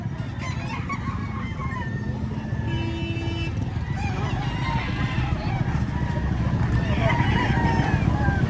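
A rooster crows at a busy Saturday market, one clear call rising over a steady crowd murmur with nearby chatter and other fowl sounds.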